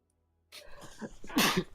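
A single sneeze close by, a short intake followed by a sharp burst, heard alone without talk.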